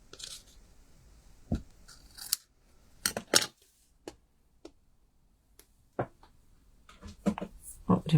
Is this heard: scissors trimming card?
yes